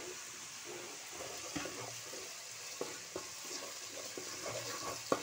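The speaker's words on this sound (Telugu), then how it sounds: "అల్లం వెల్లుల్లి పేస్ట్ ఫ్రై అవ్వనిస్తాం బాగా" Ginger garlic paste fries gently in oil with a bay leaf for Rayalaseema bagara rice, a soft, fairly quiet sizzle with a few faint stirring clicks.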